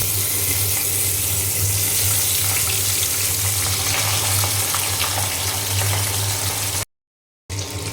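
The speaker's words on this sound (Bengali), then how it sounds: "এখন আমি ওই কড়াতেই তেল বসিয়ে দিয়েছি তেল গরম হয়ে গিয়েছে এখন আমি পাবদা মাছ দিয়ে দিলাম" Pabda fish dropped into hot oil in a wok, a loud, dense, unbroken sizzle and spatter close by, cutting out briefly near the end before resuming.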